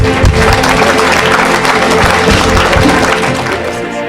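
A church congregation applauds and cheers loudly, a dense, continuous wash of clapping and crowd noise throughout, with voices mixed in.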